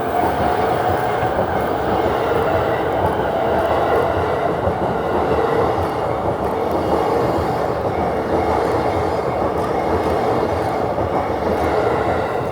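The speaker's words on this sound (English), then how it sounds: "So, oh, 3 trains." Trains roll along railway tracks in a steady, continuous rumble with a broad wash of wheel and rail noise, sustained and fairly loud throughout, with no talk.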